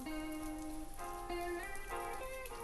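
Gentle rain falls steadily on a rainy day, a soft continuous patter beneath quiet sustained music, no voices.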